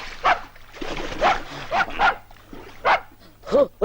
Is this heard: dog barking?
yes